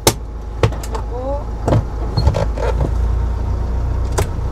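A car idles at the start of a Korean driving test, with low engine rumble and a few sharp clicks and knocks from inside the cabin. The engine note swells slightly toward the end as the car begins to move.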